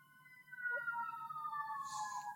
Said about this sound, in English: sorry, there's some sirens outside.